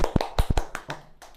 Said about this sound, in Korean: 정답! 박수!